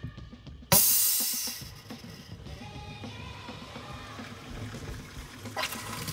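Water suddenly rushes through a cargo trailer's plumbing once the pump is switched on, fed from a hose. A sharp loud burst settles into a steady splashing flow, which surges again near the end.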